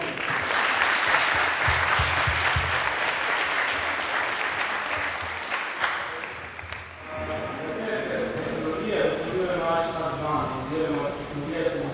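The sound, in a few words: audience applause for Jurik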